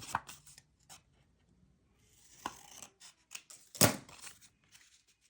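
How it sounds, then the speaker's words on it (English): Scissors trim paper with a few quiet, separate snips and slicing cuts, one louder crisp cut near the end, alongside light paper rustling. "Just go ahead and trim."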